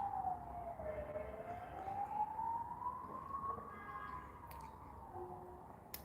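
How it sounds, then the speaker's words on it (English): Wailing emergency vehicle siren in Benidorm, a single slow rising and falling tone heard faintly from a distance through a quiet indoor background. "With that, we get sirens in the background."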